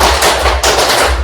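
Indonesian Year 7 biology class clapping together in a school lesson, four fast group claps in an even rhythm, dense and loud in a room, no talking.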